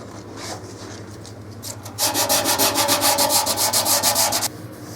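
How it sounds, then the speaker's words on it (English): Worn P60 sandpaper rubbed across a painted wall in rapid back-and-forth strokes, the scratchy rasping turning loud and steady partway through, with soft scuffing before it. "Make sure you sand it the direction you're painting"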